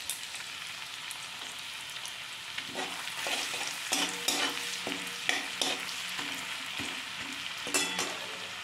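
Chopped ginger sizzles in hot oil in a pan while a spatula stirs it, scraping and knocking in quick, irregular strokes over a steady frying hiss, close and clear.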